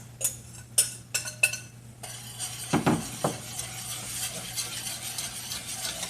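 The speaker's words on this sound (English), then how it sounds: "So we're going to stir those in." A spoon stirs dry ingredients into warm milk in a pot for peanut butter pie, with a few sharp clinks against the pot at the start followed by soft, quiet scraping and swirling.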